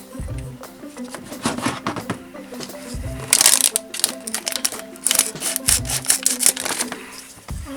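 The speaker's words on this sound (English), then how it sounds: "I think I'll have to cut this one open." A Play-Doh surprise egg gets cut open with crinkly scraping and cutting noises, bursts of crunching and rubbing up close amid brief talk.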